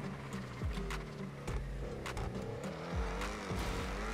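Car engine revving and accelerating hard through a curve in a GTA racing game, with repeated sharp engine pitch sweeps and gear shifts over steady game background sound, no talking.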